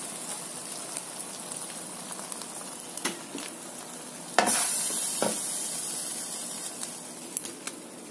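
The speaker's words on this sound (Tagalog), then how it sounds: "Haluin na natin siya" Prawns in tomato sauce sizzling in a pan while being stirred: a soft, steady sizzle close by, broken by a few sharp spoon scrapes and clacks, with one louder stirring clatter midway.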